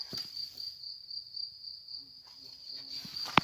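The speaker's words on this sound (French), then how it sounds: "Alors ici, il y a des frelons, il y a des guêpes, à ce que je vois." Steady insect drone of hornets and wasps around an old house, a continuous high whine running through the whole stretch with faint low rumble and a small knock near the end.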